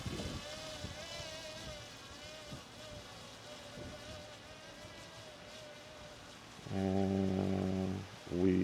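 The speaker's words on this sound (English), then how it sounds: "Okay, let's get it up to about 100 feet like we like to do." A DJI Mini 5 Pro drone climbs after takeoff with a faint, wavering buzzing whine heard from a distance, and a brief, louder tonal sound cuts in near the end.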